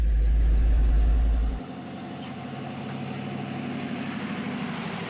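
A ZIL 130 dump truck idles nearby, a heavy low thump that drops off early, then a steadier mechanical engine drone runs on while the body is raised.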